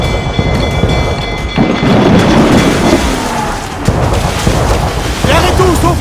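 Ship cannons in the pirate naval game Assassin's Creed IV Black Flag boom in heavy, rumbling blasts over a dense battle din of crashing and roaring, loud and close throughout.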